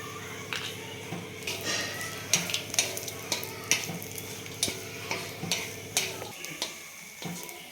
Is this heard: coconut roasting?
yes